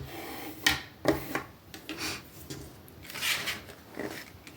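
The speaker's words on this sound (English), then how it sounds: "Give it a scrape on the back as well." A scraper rubs across the back of a glued paper card during card crafting, making soft, close scratchy strokes in a few uneven passes, fairly faint against a quiet room.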